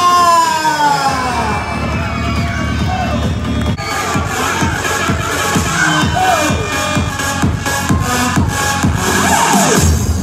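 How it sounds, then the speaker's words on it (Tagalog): A loud, sustained burst of applause and shouting from a crowd of children at a kids' 7th birthday party in the Fun Ranch Sky Room, with steady clapping and high cheers throughout. "isa munang masigabong palakpakan na may sigawan"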